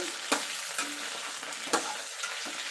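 Brinjals washed in salt water sizzle in oil for a masala curry, a steady close frying crackle broken by a few sharp stirring scrapes, with no voices.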